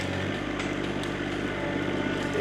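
The engine of a small, heavy T25 tractor runs steadily while it handles a tree during forestry work. The drone is loud and continuous and stays close throughout.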